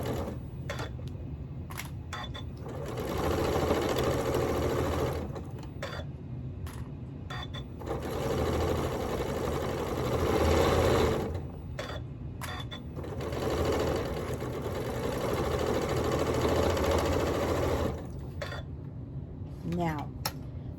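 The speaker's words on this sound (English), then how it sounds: "I'm just gonna set this down and start stitching along" Sewing machine stitching quilt rows together with sashing, running in long steady whirring stretches broken by brief stops, close and fairly loud throughout.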